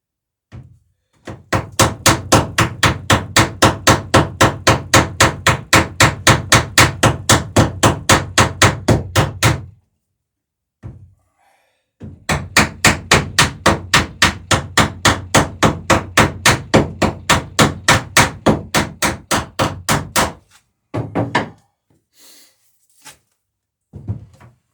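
Rivets are hammered in two long runs of rapid, evenly spaced metallic blows, loud and close, each run ending in a pause, then a few scattered taps at the end.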